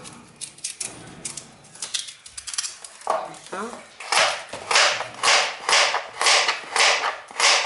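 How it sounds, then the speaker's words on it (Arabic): A carrot is cut with a knife for red lentil soup: scattered taps and scrapes at first, then a run of about seven loud, evenly spaced chopping strokes close by. "هنا نجيب الجزر تاعي نقصو"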